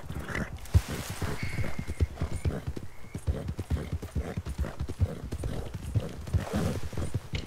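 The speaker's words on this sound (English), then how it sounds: "I gotta get my horse." Horse hooves in a video game clip-clop in a quick, steady rhythm, close and distinct, with a brief whinny mixed in.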